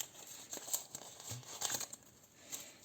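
Quiet crinkling and tearing of a thin plastic packet, a few soft rustling bursts close by.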